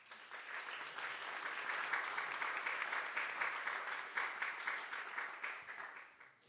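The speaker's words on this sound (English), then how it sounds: "please give a very warm round of applause for all our panelists today" Audience at a business summit panel session applauds the panelists, a steady, fairly distant wash of clapping that holds for several seconds before tapering off.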